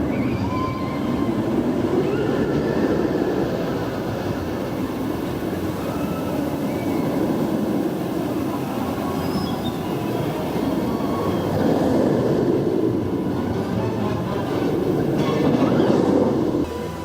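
Hulk roller coaster at Universal Orlando rattling along the track: a loud, continuous rumbling clatter of wheels and cars, sustained throughout without pause, close up and alone.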